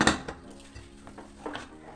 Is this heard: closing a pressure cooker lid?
yes